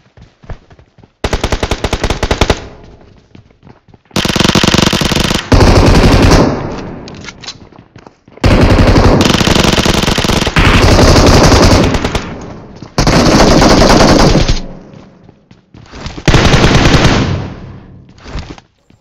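Machine gun fire in the mobile battle royale game BGMI comes in loud bursts of rapid automatic shots. Each burst lasts one to two seconds and is separated by short quiet gaps.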